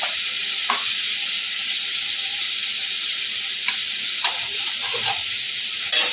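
Salted potatoes frying in a pan for a fish curry give a loud, continuous sizzle, broken by occasional scraping stirs and soft clacks of the spoon.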